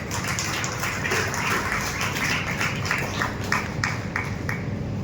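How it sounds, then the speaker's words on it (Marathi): Dense, steady clapping from an audience fills the whole stretch, a loud crowd applauding Varun and Nipun at a Marathi film event, with no pauses or voices standing out. "वरुण आणि निपुणला एकदा जोरदार टाळ्या त्यांच्यासाठी"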